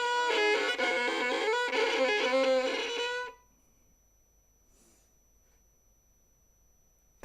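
Bowed string instrument played with poor bow placement, a rough, strained harmonic-rich tone sounding loud and close for about three seconds before cutting to near silence.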